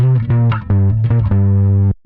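A loud pitched sample pushed through distortion and compression plugins, played as a short run of thick, buzzy, saturated notes with sharp attacks before it cuts off.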